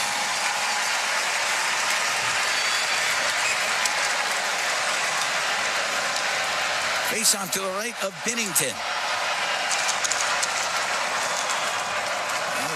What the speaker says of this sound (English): Crowd making some noise here at the Enterprise Center, as you'd expect.